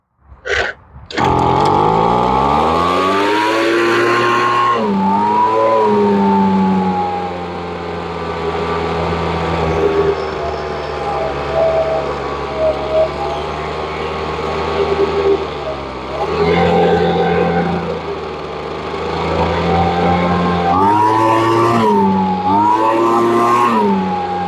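A small Ryobi engine, revived after years of sitting, runs close and loud at a buzzy idle, its pitch wavering and dipping briefly in a few places, with short throttle blips near the end.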